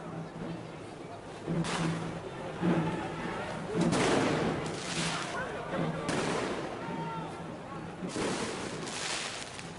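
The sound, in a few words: police warning gunshots during a clash at a Gowa ritual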